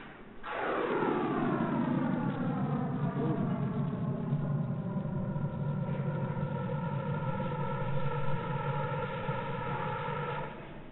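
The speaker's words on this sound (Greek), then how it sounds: "Μπορούμε να την ακούσουμε κιόλας. Αυτή την κοσμική ακτινοβολία υποβάθρου." Sonified cosmic microwave background radiation, heard as a steady layered drone of many tones sweeping slowly downward together, rising quickly and then holding an even level for about ten seconds, alone without talk.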